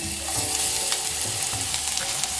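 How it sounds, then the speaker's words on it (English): Grated garlic sautéing in a hot pan makes a continuous, bright sizzle up close, with light stirring scrapes mixed in and no speech. "I'm going to saute this for a few seconds"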